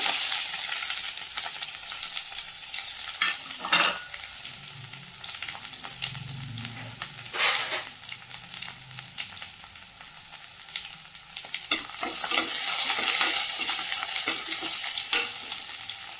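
Mustard seeds, curry leaves and crushed garlic frying in hot oil, a close crackling sizzle with popping bursts and stirring scrapes, growing busier toward the end.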